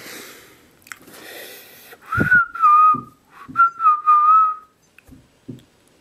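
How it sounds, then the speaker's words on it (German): A person whistles a short two-phrase tune of rising and falling notes, close and fairly loud, with breathy inhales and puffs of air between the phrases. "Ich kann pfeifen."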